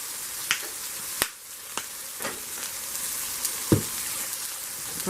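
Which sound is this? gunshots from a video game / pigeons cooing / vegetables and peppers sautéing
vegetables and peppers sautéing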